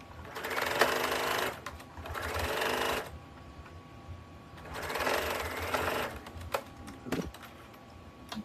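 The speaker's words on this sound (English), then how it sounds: "I'm just going to straight stitch seam all the way around, locking my stitches at the beginning and end." A sewing machine straight-stitches a seam around a basket made from curtain fabric, running in three quick motorized bursts with short pauses between, close and clear with no talk.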